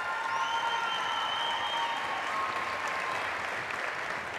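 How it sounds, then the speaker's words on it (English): Sustained audience applause at a community pep rally honoring cheerleaders and coaches, a steady dense wash of clapping with a little crowd noise, holding evenly throughout. "So please give them another round of applause"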